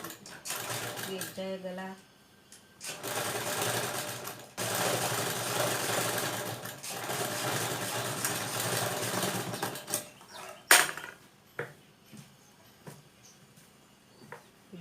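A sewing machine stitches the neckline of a simple blouse in close, rapid whirring bursts, stopping and starting with short pauses, while someone talks over and between the runs.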